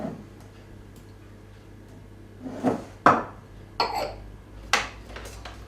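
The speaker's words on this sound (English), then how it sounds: "So now we're going to put the egg in" Eggs go into a mixing bowl one at a time: several short, sharp taps and cracks against the rim, spread across a few seconds, followed by small wet plops, close by with a quiet kitchen behind.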